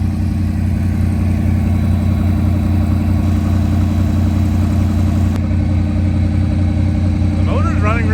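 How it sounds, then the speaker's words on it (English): A farm vehicle's motor runs steadily at idle, a smooth, continuous low engine drone that holds even throughout, close by, with a brief higher whine near the end. "The motor's running really good though."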